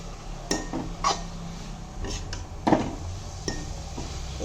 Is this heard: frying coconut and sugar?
yes